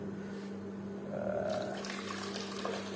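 Boiled drinking water is poured into a container of crushed leaves for making cincau, giving a soft, continuous trickle and splash under a steady low background hum. The pour swells slightly midway.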